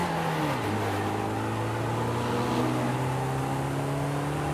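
Wuling Sunshine S van engine in Forza Horizon 5 droning steadily while driving, a loud continuous hum whose pitch drops at a shift early on, then holds and slowly climbs, with no talking.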